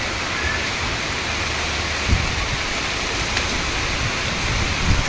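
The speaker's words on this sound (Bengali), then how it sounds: "মুম্বাইতে বৃষ্টি আজকে প্রথম হচ্ছে।" The first monsoon rain pours down in Mumbai as a constant, loud wash of rain on surfaces, with a couple of faint knocks and no clear voices.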